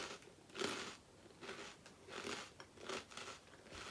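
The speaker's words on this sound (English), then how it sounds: "It's a senbei cracker with seaweed. So crunchy rice crackers dusted with dried seaweed." Crunchy seaweed senbei rice crackers dusted with dried seaweed being bitten and chewed, giving several soft, close crunching bursts spaced about a second apart, faint and with no talking.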